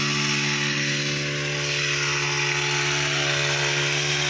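A small hand-push mini power tiller fitted as a grass cutting machine runs steadily up close, its engine holding a continuous, loud droning hum with a buzzing whine and no pauses.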